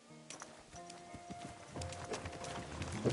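Horse hooves gallop in the video game Kingdom Come: Deliverance 2, a quiet rhythmic clip-clop that builds over a few seconds under soft tonal background music.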